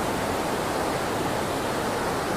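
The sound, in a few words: water flowing through a huge cave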